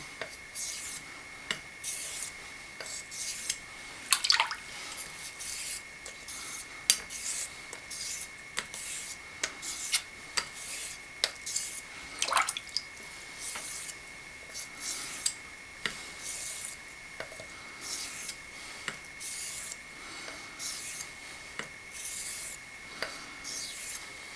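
A straight razor scrapes rhythmically across a Coticule honing stone in repeated short swooping strokes, quiet and close, with a soft raspy texture and no talking.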